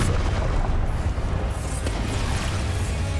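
An Expulso spell explosion in Hogwarts Legacy, a loud booming blast with a sustained rumble and crackling roar that stays heavy for a few seconds.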